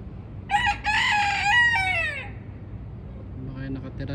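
A fighting rooster that has strayed into Kuwait crows a loud, clear cock-a-doodle-doo close by in the early morning, one long call rising and falling over steady background noise, followed by a fainter second call.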